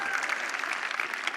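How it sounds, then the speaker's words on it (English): A congregation at a church service claps steadily in a dense, continuous wash of applause, close and loud throughout with faint voices mixed in. "One cheer for Barry"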